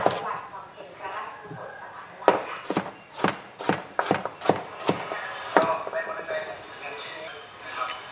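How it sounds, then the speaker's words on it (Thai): A knife cuts pumpkin into bite-size pieces on a board in a home kitchen, about a dozen crisp thuds in an uneven rhythm, close by, while someone talks over the chopping. "แล้วก็เหมือนเดิมหั่นเป็นชิ้นพอดีคำ"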